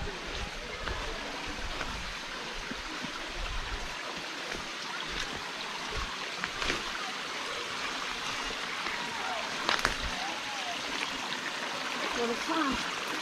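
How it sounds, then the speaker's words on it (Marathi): A stream runs down from a waterfall at Rushi Khora near Wazar in Buldhana, making a continuous, fairly faint outdoor rush of flowing water throughout. "हे जे पाणी आहे ते अगदी असं खाली जातं तिकडे."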